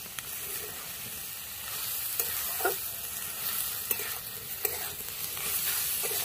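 Chopped coriander is stirred into radish chechki frying in a pan, giving a steady sizzle broken by scraping spoon strokes and occasional clinks against the pan.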